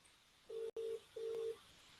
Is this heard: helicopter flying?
no